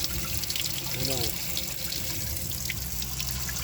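Water runs steadily from a tap into a sink while fish are cleaned, with a voice talking briefly over the continuous splashing flow.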